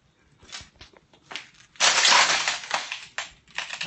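Footsteps crunch over broken glass in an abandoned hospital, a series of irregular sharp crackles with a louder sustained grinding burst in the middle.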